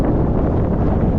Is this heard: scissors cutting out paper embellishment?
no